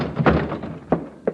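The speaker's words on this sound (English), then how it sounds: "Crash the door, Logan. Crash it." A door is crashed open in a tense old radio crime drama, coming through as a few heavy wooden thunks and thuds spaced across a short burst, close and solid, with no talk over them.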